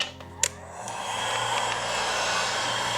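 Heat gun running on high while panels are fitted on a crashed BMW, a steady close airy roar that swells after a click and holds evenly, with no talking.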